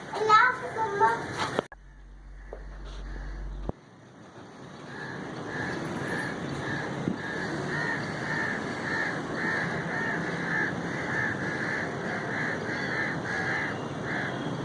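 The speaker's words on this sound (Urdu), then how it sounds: "پرندوں کی چہچہاہٹ اور ٹھنڈی ہوا" Crows caw outdoors in a steady, repeating series of harsh calls over a constant bed of ambient noise and soft bird chatter, after a brief burst of nearby activity and a short lull.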